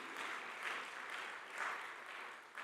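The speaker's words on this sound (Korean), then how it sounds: "은혜 주신 하나님께 영광의 박수 올리겠습니다." A church congregation claps together during a Sunday worship service, a steady wash of applause of even, moderate loudness with slight swells, filling the whole stretch without voices.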